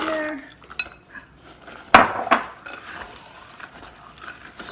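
Ingredients with pecans being stirred in a pot for a Thanksgiving meal: soft scraping and a couple of sharp utensil clinks against the pot, with quiet shuffling around them.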